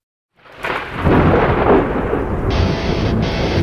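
A thunder sound effect for a sports radio show: a loud, sustained rumbling roll of thunder with heavy rain hiss swelling in and continuing throughout, no voices.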